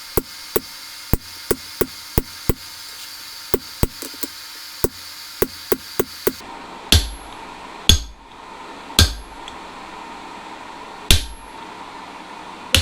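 A hammer strikes a chisel through hot metal on an anvil for a guitar hanger, first as a rapid series of light, regular ringing taps, then as slower, heavier, more resonant blows.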